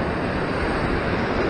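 Ocean surf surges against coastal rocks during sea fishing near Sydney, heard as a continuous, close roar of churning water mixed with wind rush, with no voices.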